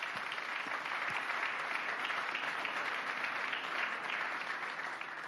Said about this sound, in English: let's give a huge round of applause to our panel.